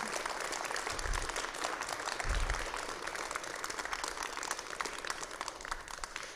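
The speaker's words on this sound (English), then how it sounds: "Would you give all of our faculty another round of applause, please?" A concert audience applauds faculty performers at a college performing arts center, with steady, dense clapping filling the hall and a couple of brief low thumps early on.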